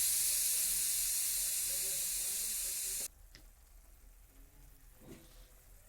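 Red chili powder, Kashmiri chili powder and salt hit hot frying oil for a fish curry, giving a loud, bright sizzle for about three seconds. It then cuts off abruptly to quiet stirring and a few soft scrapes.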